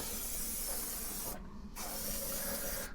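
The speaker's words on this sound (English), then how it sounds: "but I do have some aerosol" Aerosol degreaser sprays onto Lambretta TS1 scooter engine parts in a close, steady hiss, briefly stopping for a moment before the spray resumes.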